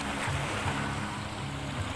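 Rolling waves churning murky, rough water stirred with sand, heard as a continuous close wash of surf with soft low pulses of moving water and no speech.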